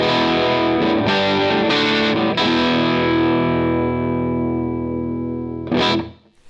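A bass guitar with humbucker pickups runs through DIY effects pedals for a gritty, edge-of-breakup tone. Several loud, sustained notes are picked in a row, and a final sharp attack comes near the end before the sound cuts off.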